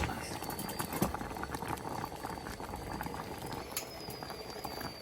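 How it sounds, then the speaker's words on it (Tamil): Milk for palmyra fruit puttu bubbles and simmers in a pot, a dense steady crackle of small pops up close, continuous and moderately loud. "பால் அப்படியே கொஞ்சம் கொதிக்க விட்டு"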